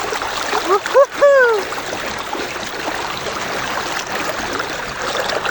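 Stream water in the Kamala river flows with a constant rushing wash while someone bathes, and a brief vocal sound cuts in near the start.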